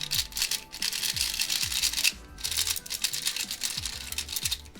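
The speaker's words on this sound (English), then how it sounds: "You guys hear that, like, clicking? It sounds like a clicking mechanism from like a Pyraminx." A GAN 249 v2 speed cube being turned, giving rapid rough rubbing and clicking bursts in quick succession, fairly close and steady with a brief pause midway.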